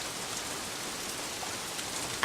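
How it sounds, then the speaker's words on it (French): Steady rain falls in a broad, even hiss with no voices, holding constant throughout, with a brief louder rise right at the end. "Je ne pensais pas qu'il allait pleuvoir."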